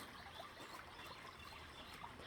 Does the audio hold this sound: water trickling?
yes